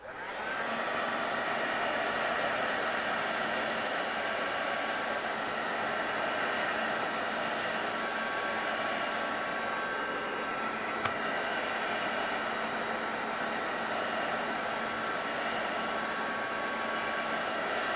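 A hair dryer runs continuously at close range while drying crackle medium over acrylic paint, a steady loud airy whir without a break.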